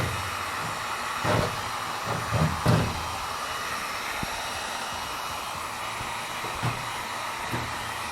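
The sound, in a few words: heat gun heating a van decal to remove it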